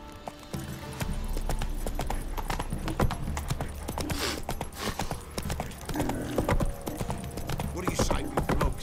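In The Witcher 3, a horse gallops with rapid, rhythmic clip-clop hoofbeats and an occasional snort. The hooves stay near and prominent throughout, backed by a low rumble of game ambience.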